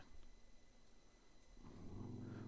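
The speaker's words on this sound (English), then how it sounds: "What are you growling at, dude?" A small dog growls low and steady indoors, the rumble swelling louder toward the end, close to the listener with no talking over it.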